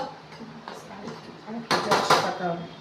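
Boiled potatoes mashed in a metal pot, with soft pressing thuds followed by louder clanking scrapes of a utensil against the pot, close by, while someone talks.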